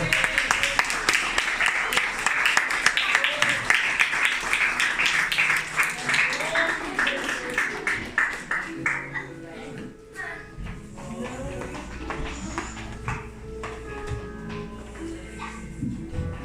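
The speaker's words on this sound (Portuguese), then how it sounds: "Você pode aplaudir o Senhor?" A church congregation at a revival service in Toyota, Japan, applauds the Lord with dense, sustained clapping for about eight seconds, which then thins into sparse claps and rustling as a voice begins speaking.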